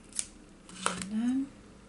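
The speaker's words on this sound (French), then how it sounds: "je vais venir couper le surplus de ma dentelle" Scissors snipping off surplus lace in a card-making craft: a couple of quick close metallic snips, then a short rising squeak of the blades, with a voice speaking quietly alongside.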